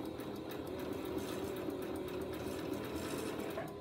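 A sewing machine set to a 2.4 stitch length runs steadily while stitching a narrow rolled hem, a close, even mechanical whir with a fast regular stitch rhythm throughout and no talk.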